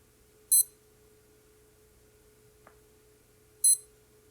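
Two short bursts of high-pitched electronic beeping from a digital chronograph watch alarm, a few seconds apart, with a soft click between them over a quiet background hum.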